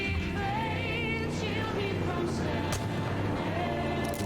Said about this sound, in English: My gun just auto shoot?